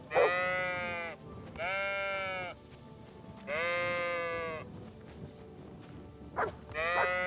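Sheep in the video game Kingdom Come: Deliverance II bleating repeatedly, four drawn-out baas and a short one in uneven succession, loud and close over a quiet background.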